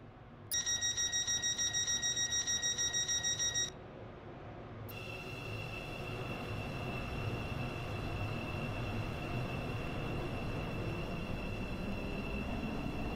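Train running in the Roblox railway game Stepford County Railway, a steady rumbling roll with high tonal whines, opening with a loud pulsing beeping alert that stops, then a continuous hum.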